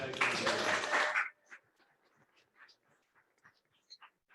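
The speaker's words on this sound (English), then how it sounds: "we need to get a big round of applause for all of our panelists here" A short burst of audience applause for the panelists at an entrepreneur event, loud and dense for about a second before cutting off abruptly, followed by near silence with scattered faint sounds.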